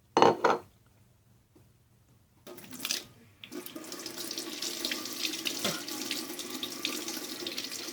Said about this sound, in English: Make sure you rinse everything with your mixing stick.